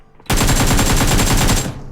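Automatic gunfire in the video game PUBG erupts as one loud, rapid burst of shots lasting over a second, then cuts off sharply.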